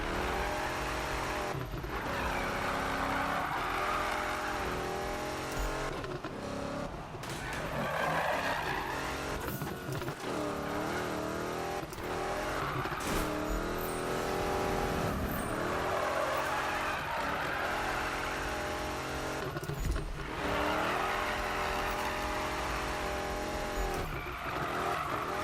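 Car drifting in Need for Speed 2015, with a rear-wheel-drive Mustang tuned for drift: a steady roaring engine with rising and falling revs and sustained tire squeal as the car slides, loud and continuous throughout, with no talking.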